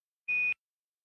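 A single short electronic caution alarm beep in a Boeing Starliner spacecraft cockpit: a clean, steady tone lasting about a quarter second, then silence.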